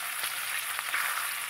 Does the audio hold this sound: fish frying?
yes